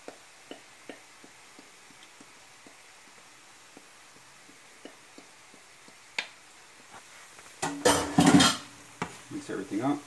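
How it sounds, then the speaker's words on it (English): Carrots and cabbage get tossed in a pan for vegan spring roll filling: a run of light, evenly spaced utensil taps, then a burst of louder clattering scrapes and knocks against the pan near the end. "Mix everything up."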